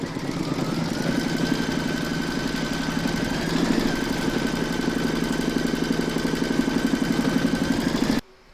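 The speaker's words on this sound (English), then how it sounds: "Pop your hoop into your machine and stitch round number 10 to secure it" An embroidery machine stitches a round on fabric in a hoop, giving a steady, close, rapid mechanical whirring and ticking that runs evenly and then stops abruptly.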